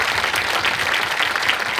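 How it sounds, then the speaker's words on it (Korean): An audience at an outdoor rainy-evening talk event applauds in a loud, sustained, dense roar of clapping from many hands. "좋은 얘기 했을 땐 박수를 좀 주세요."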